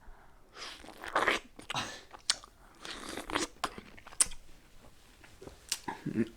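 Someone bites into and chews a peach, with several crisp, wet crunches and mouth sounds close to the mic over about six seconds. There is no speech.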